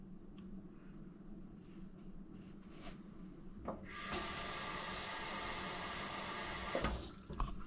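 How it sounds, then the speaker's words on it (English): Tap water gushes into a kitchen sink fitted with a newly swapped garbage disposal, a steady close rush that begins after some faint clunks and handling noises and runs for several seconds before cutting off. "Go ahead and run a little bit more water in here"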